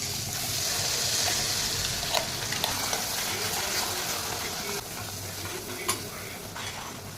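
Ground masala paste sizzling and frying in oil in a pan for black chicken curry, stirred steadily with a spoon, with a few sharper scraping knocks over a continuous close hiss.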